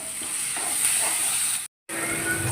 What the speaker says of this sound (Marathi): आता यात आपण कांदा टाकून घेऊ आणि हा कांदा ब्राऊन होतोपर्यंत ह्याला शेकू